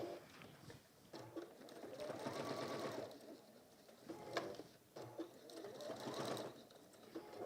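A domestic sewing machine runs in two bursts of close, steady stitching on a fabric mug carry handle, pausing briefly between runs.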